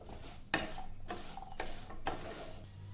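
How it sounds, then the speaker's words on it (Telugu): Carrot pieces frying in a pan are stirred, giving scraping, clinking strokes in a few bursts over a steady soft sizzle, close by with no talking. "మళ్ళీ మిక్స్ చేసుకోవాలండి."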